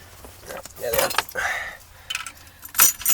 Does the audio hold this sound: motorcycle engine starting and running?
no